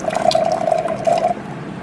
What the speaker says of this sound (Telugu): ఫస్ట్ వాటర్ ఎట్లా వస్తుందని చూద్దాం.